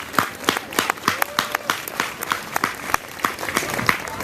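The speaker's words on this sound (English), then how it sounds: "we really need to give a big round of applause to Vadim and his whole crew" An outdoor crowd at the Veggie Pride Parade in Chicago's Grant Park in 2013 applauds with sharp, distinct hand claps in a steady, moderately sparse patter, close and fairly loud.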